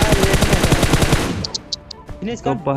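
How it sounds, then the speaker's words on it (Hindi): Rapid automatic gunfire in a battle royale game at a military base, a fast burst of loud close shots for over a second, followed by scattered single shots and game effects under brief voices. "तो सामने ही वो बंदे फायरिंग करता है मेरा"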